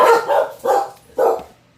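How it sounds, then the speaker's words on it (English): Dogs bark indoors in three loud, close barks at a slow, even pace, with short quiet gaps between them. "if they hear a deer outside, the dogs outside start barking, and these guys do too"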